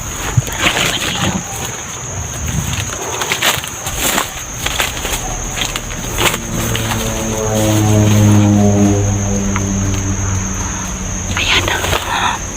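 A propeller airplane drones overhead above a mountain area, a low harmonic engine hum swelling louder midway and then easing, over faint rustling nearby.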